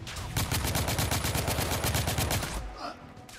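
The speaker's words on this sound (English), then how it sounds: "I'm being shot by bullets" Rapid automatic gunfire in the video game The Order: 1886, a dense loud string of shots for about two and a half seconds before cutting off into quieter game sound.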